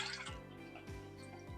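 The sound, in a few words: hot water being poured into soup pot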